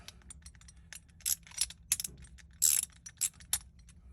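Socket ratchet loosening a part clamped in a vise while a FasTest bail handle is taken apart, giving fast, close metallic pawl clicks in irregular bursts, with a few louder clicks standing out over a low background hum.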